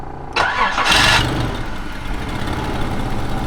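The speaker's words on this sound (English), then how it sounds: "Let it idle once it starts. Don't give it gas." A Nissan car engine cranks and catches, with a loud rising burst of starter and ignition, then settles into a steady rough idle that runs on without revving.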